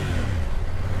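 Engine of a 2024 BMW F900 GS motorcycle, a parallel-twin with a stock Akrapovic exhaust, runs with a steady low rumble throughout, fairly quiet and continuous, with no talking.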